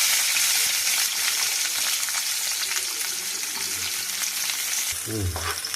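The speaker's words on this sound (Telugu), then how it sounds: "తగినంత నూనె వేస్తున్నానండి కూరలోకి" Sliced onions hit hot oil in a pan for a drumstick, green pea and tomato curry, sizzling in a loud, dense crackle that fades slightly before a scraping stir near the end.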